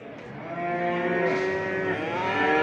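Cattle lowing steadily at a busy livestock market in Çorum, a loud, sustained moo with layered harmonics that swells and continues through the whole stretch, other animals murmuring behind it.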